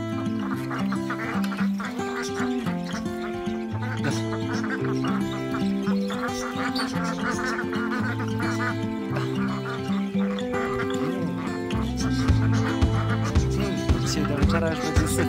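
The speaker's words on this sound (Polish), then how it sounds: "No czy ta kaczuszka nie jest piękna? Z fioletowymi piórkami i ten kaczorek?" A flock of ducks, including a drake with purple feathers, quacks loudly and continuously in a dense overlapping chorus that grows even louder toward the end.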